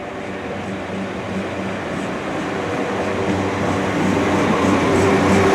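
A London Overground train stands at a station platform, giving a steady, loud rumble of engine and rail noise that builds slightly over several seconds, with no voices.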